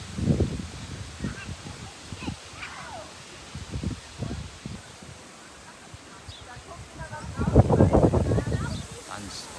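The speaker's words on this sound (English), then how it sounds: "Tons of ducks." Ducks on the lake at Schwerin Castle, with several honking and quacking calls scattered across the clip amid outdoor rustle, growing louder and busier near the end.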